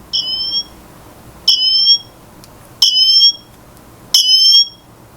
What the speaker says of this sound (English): Now let's try the siren. This 86 decibel siren.